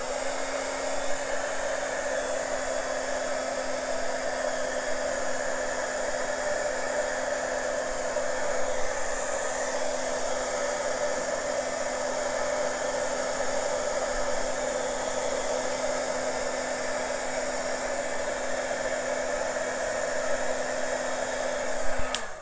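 A hair dryer runs steadily and close by, drying a thick acrylic pour painting made with Floetrol, glue and silicone, a constant whooshing hum with a faint steady whine and no talking.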